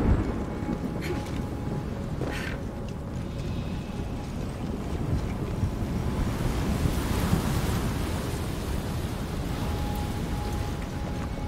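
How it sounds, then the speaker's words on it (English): Wind gusts across an outdoor area in the video game Shadow of the Tomb Raider, a continuous broad rushing roar that swells slightly midway and holds steady throughout, loud and unbroken. "Windy."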